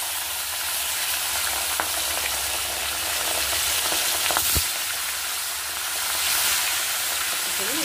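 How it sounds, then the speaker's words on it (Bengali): Fish fries in hot oil in a home kitchen with a loud, continuous crackling sizzle and a few sharp pops and clicks, close and unbroken by talk. "মাছটাকে ভেজে নেবো।"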